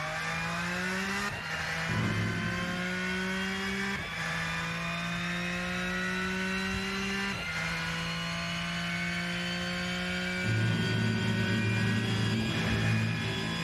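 Porsche race car in the Rennsport racing game, engine revving hard through repeated upshifts and downshifts, a loud sustained howl rising in pitch between sharp gear changes, heard alone.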